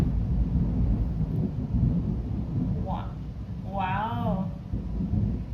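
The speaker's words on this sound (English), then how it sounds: "The thunder booms while I'm talking about you" Thunder rolls during a storm, a loud deep rumble that fills the whole stretch. A person briefly exclaims and makes a vocal sound over it.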